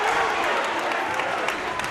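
Basketball crowd at a boys' high school sub-state final, a broad, steady roar of voices and scattered clapping reacting to a foul call, loud and continuous throughout.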